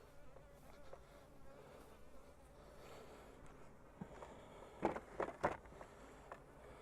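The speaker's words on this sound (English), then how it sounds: "I'll kind of pick these bees up." Honey bees buzzing around an open hive while splits are moved into boxes, a soft continuous hum with a few closer, louder passes of individual bees near the end.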